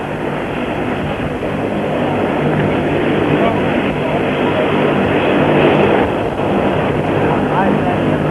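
A plane comes in to land at Love Field in Dallas in 1963, with a loud, steady engine roar that swells slightly over several seconds while broadcast voices talk over it.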